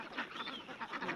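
Ducks (itik) on a Philippine farm, several quick raspy quacks in close succession, moderately near and fairly quiet.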